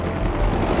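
A helicopter thunders loud and close in a Jackie Chan action film, a heavy continuous rotor roar that fills the whole moment.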